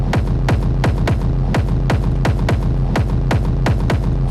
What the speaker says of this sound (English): if I like just solo the drums and play them back